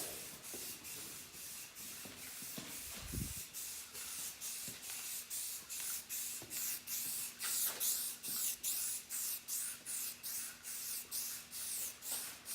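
Aerosol spray paint cans hiss in repeated bursts while white paint goes onto a Nissan 240SX, a steady rhythm of short hissing sweeps with brief pauses between them and a faint background hum.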